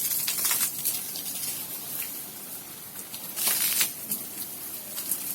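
Water being poured or sprayed outdoors to cool the surroundings, a continuous hissing splash with fluctuating patter and brief louder gushes, fairly close and without speech.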